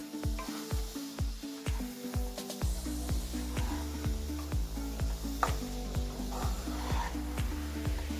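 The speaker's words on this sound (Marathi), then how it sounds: "व्यवस्थित मिक्स करायचा आपल्याला हा किस।" A spoon scrapes rhythmically through a grated coconut mixture cooking in a pan for coconut vadi, with quick regular stirring strokes over a soft sizzle, close and steady throughout.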